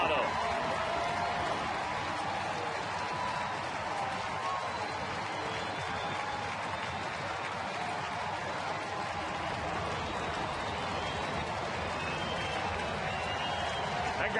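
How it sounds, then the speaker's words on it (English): A Cincinnati Reds baseball crowd cheers Joey Votto's home run with a steady, dense roar of voices and clapping from a large stadium, sustained and unvarying throughout. "Crowd wanting a curtain call from Joey Votto"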